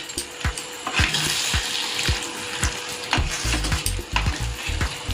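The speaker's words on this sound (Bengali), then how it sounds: "আরও 1/2 কাপ মতো জল আমি অ্যাড করে দিলাম।" Water poured into a pan of chili prawn gravy, sizzling and bubbling with repeated low splashes and steady frying hiss throughout, close and fairly loud with no talking.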